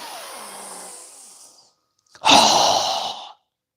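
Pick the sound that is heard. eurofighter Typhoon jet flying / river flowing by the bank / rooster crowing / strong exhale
strong exhale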